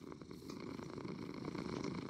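A soft, steady video-game cat purr, faint and close, with a continuous rumbling rhythm and no talking.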